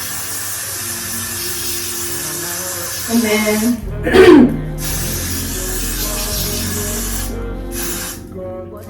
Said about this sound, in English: I'm gonna take some laiddddd spray and spray it.